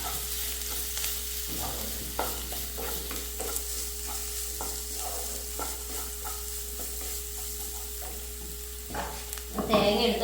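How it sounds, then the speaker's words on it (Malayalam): A spoon stirs coconut masala paste frying in a pan for banana-flower thoran, producing a continuous close sizzle with regular scraping strokes throughout and a louder clatter near the end, with no talking. "എന്നിട്ട് നല്ലപോലെ അങ്ങോട്ട് ഇളക്കാം"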